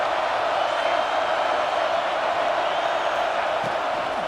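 A stadium crowd at a South Carolina versus Alabama college football game roars in a steady, broad wash of cheering that holds at constant loudness, with a commentator's voice faintly over it.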